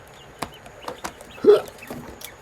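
A young tuxedo quail, a rare dark variety about nine weeks old, giving a few short, soft clucks and chirps close by, separated by brief quiet gaps.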